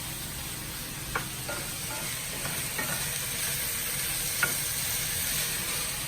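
Sausages frying in a pan for a one-dish meal with shrimp and vegetables, a steady bright sizzle with a few soft scrapes of stirring, close and continuous with no talking.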